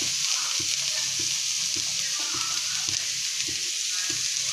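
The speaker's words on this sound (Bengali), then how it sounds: "এভাবে একটু নেড়ে চেড়ে লবণ আর হলুদ দিয়ে দেব।" Mustard greens with salt and turmeric stirred in a frying pan, a steady close sizzle broken by rhythmic scraping strokes roughly every half second, no voices.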